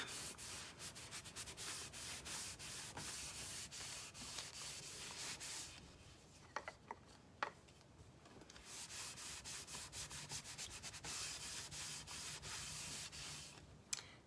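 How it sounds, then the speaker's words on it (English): A rag rubbed back and forth across a scrap wood board, a close, continuous scrubbing swish that pauses briefly for a few soft knocks, then resumes and ends with a tap. "So I just dip my rag in there and I just rub it on the board."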